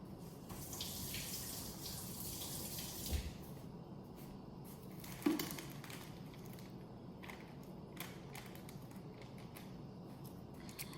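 Tap water running over a very fine detail brush being rinsed at a sink, a steady hissing stream with a couple of faint knocks and a creak, close and fairly quiet throughout.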